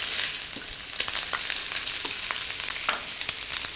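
Shredded Chinese black mushroom and small cooked prawns stir-fried in a wok, a loud, close, continuous sizzle broken by scattered clicks and scrapes of the stirring utensil, with no voices.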